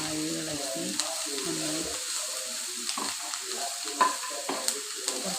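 Food for a Kerala elathoran dish is stirred in a cooking pan after salt goes in, a low sizzle with scattered light scrapes and taps of the spoon, close and fairly quiet.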